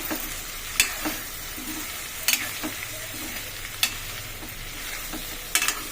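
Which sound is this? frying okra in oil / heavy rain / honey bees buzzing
frying okra in oil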